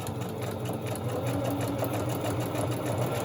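Sewing machine stitching a fabric collage, a close, steady rapid mechanical whir with even rhythm running through the whole stretch without pause.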